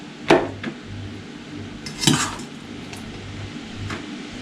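Dishes and frying pans clatter as they are picked up in a village kitchen, with a few sharp metallic clanks and softer knocks spaced across a few seconds, close by and without talk.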